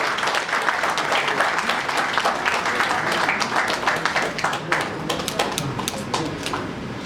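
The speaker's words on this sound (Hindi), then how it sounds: "जोरदार तालियां हो जाए" Sustained audience applause at an Eid get-together award felicitation ceremony, a thick steady patter of many hands that thins toward the end into scattered distinct claps, with some voices mixed in.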